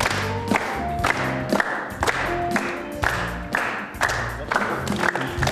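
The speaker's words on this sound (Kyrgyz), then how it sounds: "Кол чабуулар менен." Audience applause at a televised Kyrgyz matchmaking show, a dense, loud burst of clapping from a studio crowd that swells and dips in several waves, with faint cheering mixed in and no talk over it.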